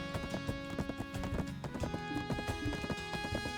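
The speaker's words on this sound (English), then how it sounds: "Good job, horsey." Hooves from a video-game horse galloping beat in a quick, steady clip-clop rhythm, a fairly quiet and continuous run of sharp knocks with no voices over it.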